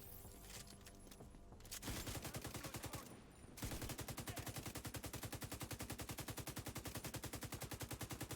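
Rapid, steady video game gunfire rattles on at a fast, even rhythm, with a short gap before a long burst of automatic fire. It is alone and fairly faint.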